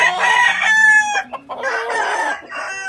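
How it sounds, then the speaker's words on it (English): Chickens and chicks on a farm cluck and call in a busy, overlapping run of close, fairly loud bursts, with one brief gap partway through; no one speaks. "So those are the chicks you see."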